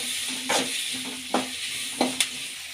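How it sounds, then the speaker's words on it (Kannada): Finely chopped onions sizzle in hot oil with mustard seeds, a steady close frying hiss broken by a few sharp scrapes and clicks of stirring. "ಎಣ್ಣೆಯಲ್ಲಿ ಈರುಳ್ಳಿ ಸ್ವಲ್ಪ ಫ್ರೈ ಆಗಲಿ"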